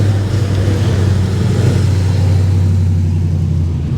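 Holden Torana muscle cars pulling away at a car meet, a deep low engine rumble that holds steady and loud, tapering slightly at the end.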